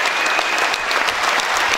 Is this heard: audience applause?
yes